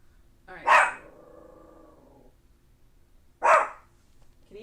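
A pet dog barks twice indoors, two loud, close, sharp barks a few seconds apart, the first trailing into a brief whining tone, with quiet between them.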